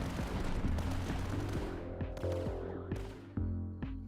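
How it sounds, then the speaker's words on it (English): Burst-firing weapon in an indie video game, shooting repeated short bursts of sharp shots in a rhythmic, stuttering pattern over a low musical drone, with a few louder cracks toward the end. "this thing does like a 3-shot burst, a 4-shot burst, 5-shot burst, and then reloads"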